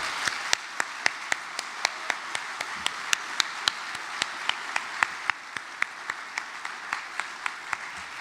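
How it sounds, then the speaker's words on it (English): Steady applause from a crowd, sharp claps repeating quickly and evenly throughout, with no voices over it. "give her a huge round of applause"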